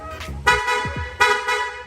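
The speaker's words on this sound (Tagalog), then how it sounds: "yung busina naman ni sir na loud horn" Two loud, blaring PIAA horn honks close by on a Yamaha Aerox 155 motorcycle, each sustained for about a second, with a low engine rumble in between.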